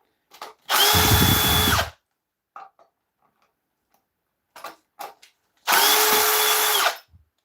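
A power drill backs steel screws out of a lathe face plate in two loud, close bursts of whirring about a second long each, separated by light ticks and clicks from handling.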